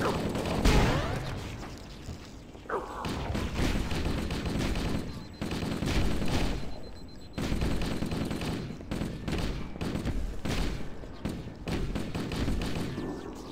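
Sustained gunfire in Halo during a Legendary run of The Library mission, dense rapid bursts and bangs filling the whole stretch with brief pauses between volleys, loud and close with no talk.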